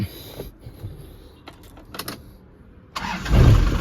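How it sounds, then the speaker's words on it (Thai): A starter cranks briefly and a 1996 Isuzu TFR SLX pickup engine catches, then settles into a rough, loud idle up close. "สตาร์ทฟังเสียงเครื่องยนต์ครับ"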